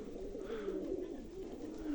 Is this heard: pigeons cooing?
yes